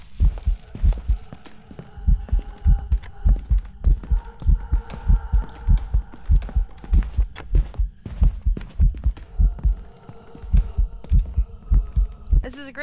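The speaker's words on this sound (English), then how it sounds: "This is a great way to get desensitized to the heartbeats and sounds." A rapid, loud heartbeat pulses steadily during a ghost hunt in the horror video game Phasmophobia, thumping in a regular double rhythm over a low hum, with faint game sounds around it.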